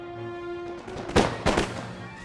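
Musket volleys in Empire: Total War fired at a Highlander warband, two sharp crackling bursts a fraction of a second apart over a steady low game hum.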